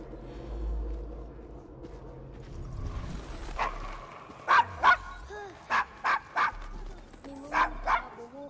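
Dog barks in Assassin's Creed Syndicate, a run of about eight sharp, loud, evenly spaced woofs in small groups, following a stretch of low street ambience and game music.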